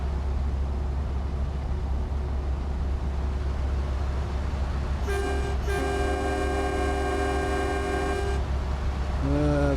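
In Euro Truck Simulator 2, a train rumbles past with a constant low drone, and its horn blasts in a long sustained tone, cuts off briefly, then sounds again, with another short horn at the end.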